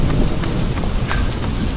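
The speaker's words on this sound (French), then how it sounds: "Et il y a même l'orage." Rain pouring steadily in a thunderstorm during a marathon training run, a loud continuous hiss with a low rumble beneath it, brief and without voices.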